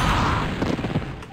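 Rocket launcher firing in the game Doom: The Golden Souls 2, giving a loud, booming blast with a rumbling tail that fills the whole short moment.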